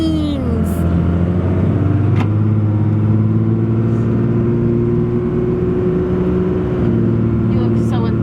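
A Cummins 24-valve diesel pickup truck accelerates with a deep, steady engine drone that rises in pitch early on, then holds a strong, even tone close by.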